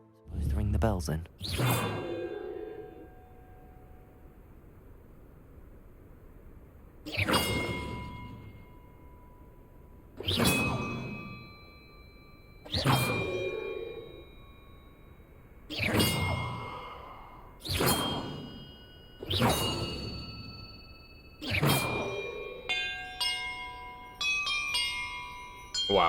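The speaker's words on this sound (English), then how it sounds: "Supposed to ring the bells in." Bells ring out one at a time in a slow, irregular series of bright, resonant strikes in the video game Hogwarts Legacy, each tone decaying before the next, ending in a quicker cluster of chimes.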